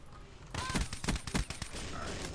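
Rapid automatic gunfire from Black Ops 3 multiplayer on PC, a dense burst of close, loud shots rattling out for about two seconds after a brief quiet start.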